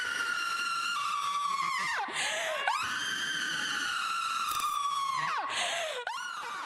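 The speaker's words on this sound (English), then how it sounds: "that loud scream she just let off" A woman lets out a long, loud, high-pitched scream that rises and falls in repeated sustained waves, close and intense, with brief breaks between bursts and no talking.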